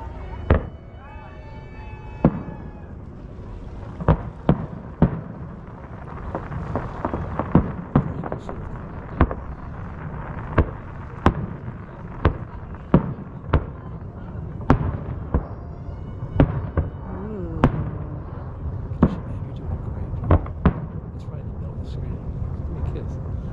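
Fourth of July fireworks at Big Bear burst in a long run of sharp booms and cracks, some close together and some spaced out, with distant rumbling between them.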